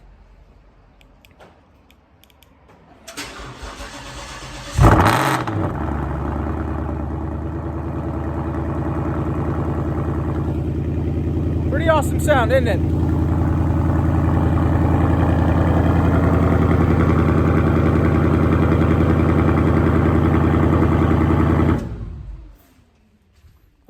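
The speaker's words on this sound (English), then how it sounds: "I'm going to give you guys a cold start just for fun, see how it's been doing." A Ford Mustang cold-starts with a sharp cranking burst, then settles into a loud, steady, close idle that rises slightly before cutting off. Someone speaks briefly over the running engine.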